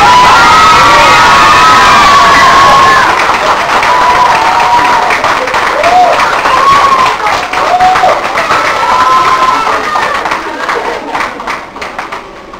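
A crowd at a junior idol talent contest in Yellowknife cheers, claps and shouts loudly and continuously, with high children's whoops rising over the roar before it gradually eases off.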